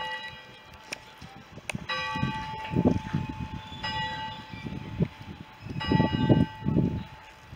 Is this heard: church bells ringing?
yes